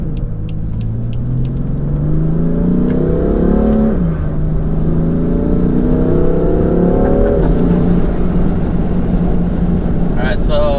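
BMW M3 fitted with new intakes, its turbos spooling as the engine revs, rising whine and exhaust drone climbing twice then dropping, loud and close inside the car, with a voice talking over it.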